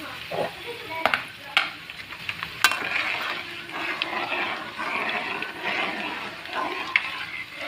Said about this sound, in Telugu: ఎండుమిరగాయలు కూడా బాగా ఫ్రై అయినాక ఇప్పుడు చిన్నికాయలు వేయాలి.